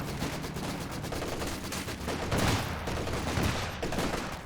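Dense automatic machine-gun fire and battle explosions from a Company of Heroes 2 match, with a Churchill VC1 tank's pintle mount and side-mounted machine guns firing; rapid continuous bursts fill the clip at steady loudness with heavier thumps mid-way.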